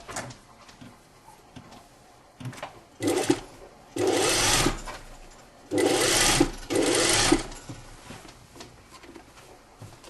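A sewing machine runs several short understitching bursts along a side seam of a belted shirt-tunic, the longer runs loud and close, with quiet pauses between them.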